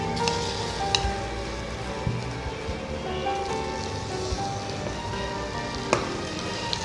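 Eggs frying in masala in a hot pan for a Kerala-style egg masala, a steady, even sizzle with occasional sharp pops and crackles, fairly quiet and close, with no voices over it.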